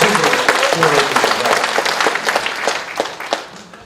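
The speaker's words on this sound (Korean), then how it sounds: "박수를 좀 세게 쳐주셔야 또 책임감을 가지고" Applause from an audience at a Democratic Party political rally in Chungbuk, South Korea, a dense burst of clapping lasting a few seconds and fading slightly toward the end.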